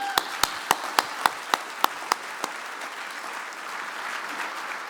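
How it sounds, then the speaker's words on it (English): Guests at the Wooster Area Chamber of Commerce annual dinner applaud, with a run of about nine crisp, evenly spaced claps standing out over softer diffuse clapping that thins and fades. "Let's give her a round of applause for that"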